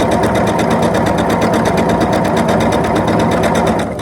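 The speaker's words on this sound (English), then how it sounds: "And then I just sew away." Sewing machine running steadily while stitching a quilt block, a fast, even motor whir with rapid needle ticks close up, continuous for about four seconds before easing off at the end.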